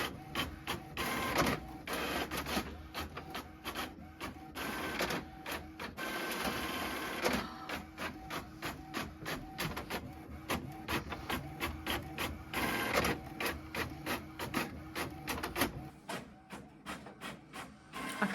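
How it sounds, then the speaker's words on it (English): A printer prints a manuscript nearby, with rapid rhythmic mechanical clacking and whirring sheet feeds repeating throughout, then a brief pause before it starts again. "it's printing."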